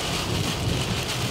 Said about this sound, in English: When you're in a hurricane, you kind of want to hear those wind gusts